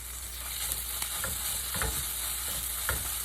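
Chopped garlic sizzles in hot oil in a pan alongside sardines, a steady close frying hiss with a few light scrapes and taps of a utensil against the pan.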